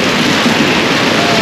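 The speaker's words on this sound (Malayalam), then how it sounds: "നല്ല കിടിലം മഴ പെയ്തുകൊണ്ടിരിക്കുകയാണ് ഇവിടെ." Heavy rain falling in a village, heard as a loud, constant, close-up roar of water, with no pauses or other sounds standing out over its short span.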